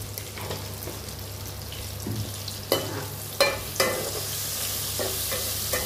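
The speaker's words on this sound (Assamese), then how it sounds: "ভেন্দিখিনি ঢাকন নিদিয়াকৈ মই ভাজি লম।" Dry okra with potato fries in an uncovered pan, a soft steady sizzle running under a few distinct scraping stirs and knocks of a spatula against the pan.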